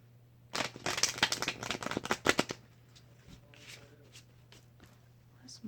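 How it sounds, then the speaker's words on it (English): Tarot cards being shuffled, a burst of dense riffling and slapping for about two seconds, followed by softer scattered card handling against a steady low hum. "So I'll go ahead and shuffle now"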